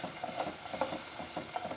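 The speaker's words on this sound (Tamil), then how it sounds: "இப்போது வெங்காயம் நல்லா வதங்கிட்டுருக்கு" Onions sauté in oil in a pan with a steady, close sizzle and crackle, accompanied by soft intermittent stirring scrapes and no talking.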